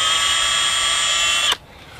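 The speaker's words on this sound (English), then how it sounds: "drill a 1/16 inch hole just above the female threaded adapter" Power drill boring a 1/16 inch hole into well casing just above a female threaded adapter, a steady high whine held close and loud for about a second and a half before it abruptly stops.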